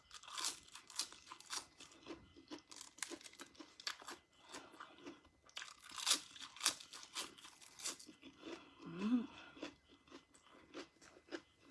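Someone eating Thai noodle soup chews and crunches close to the microphone, with soft irregular bites and mouth sounds repeating steadily for about twelve seconds, quiet overall and without talk.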